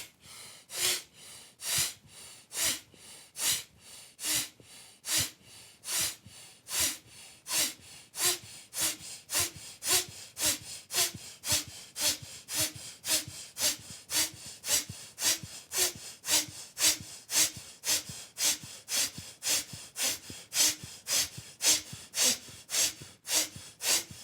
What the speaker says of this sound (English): contracting your abdomen as you exhale through your nostrils, hard and fast